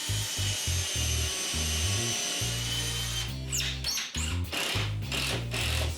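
A power drill drives a screw into a wooden curtain cornice that is clamped to a wall, sounding as a series of short, loud whirring bursts separated by brief pauses, close up.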